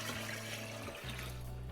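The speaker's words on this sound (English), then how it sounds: "I'm just using hot water out of the tap" Hot tap water pours steadily into a sugar wash being brewed for distilling, giving a continuous close, moderately quiet rushing gurgle whose tone shifts once partway through.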